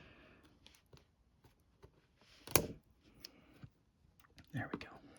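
Quiet snips and clicks of scissors working through Pokémon Twilight Masquerade card packaging, with a louder crunching cut in the middle and soft rustling around it.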